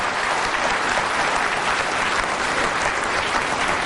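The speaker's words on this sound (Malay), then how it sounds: "Kita berikan tepukan sama-sama kepada Tun Dr. Mahathir Mohamad." A forum audience applauding former Malaysian Prime Minister Tun Dr. Mahathir Mohamad, loud, dense, sustained clapping from a large crowd with no let-up.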